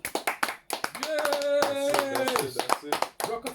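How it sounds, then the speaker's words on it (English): Church audience clapping in distinct sharp bursts, close by, with a sustained sung or held voice and brief speech partway through. "let's give Yehovah Shimon Shai a round of applause"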